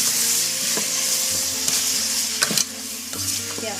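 Liver masala with ginger paste being stirred in a frying pan, a steady sizzle with scraping spoon strokes and a few sharp clinks against the pan, close and continuous with no talk.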